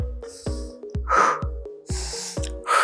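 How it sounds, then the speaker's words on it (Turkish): Strong, audible breaths are drawn in and pushed out during a beginner pilates exercise. Sharp inhales and long exhales alternate in a steady rhythm over a thumping background beat. "Nefes al ve ver."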